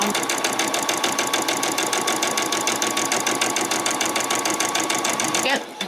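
A sewing machine stitching across a skirt hem, running in a fast, even mechanical rattle for several seconds before stopping abruptly, with a voice talking faintly over it.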